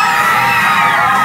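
A dense amusement park crowd at Parque Santa Maria cheers and shouts together, a loud continuous roar of voices and whoops with no gaps.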